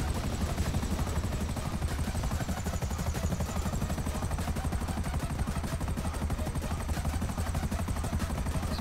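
A helicopter's steady, loud rotor thump in the video game GTA V chops continuously throughout, with a high engine whine over the top and no voices.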